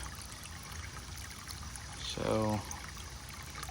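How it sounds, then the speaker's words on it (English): Water pours briefly into a nutrient mix for an outdoor cannabis grow, a short gurgling trickle of about half a second against quiet background, with a word spoken just before. "Let's add a little bit more water."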